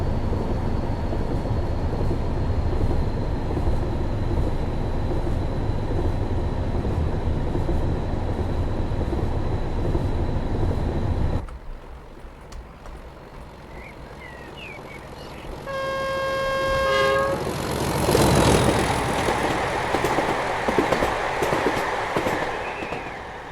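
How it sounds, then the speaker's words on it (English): A BR Blue Class 31 locomotive in Train Sim 2021 runs on the Chat Moss line, wheels clicking over track joints under a steady rumble, with a pause and then a loud horn toot before the running noise builds again. "I do love the track joint sounds"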